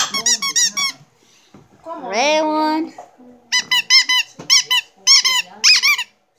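Squeaky dog toy balls squeezed in bursts of shrill, rapid squeaks, with one longer drawn-out squeal in the middle; a person speaks briefly between squeezes.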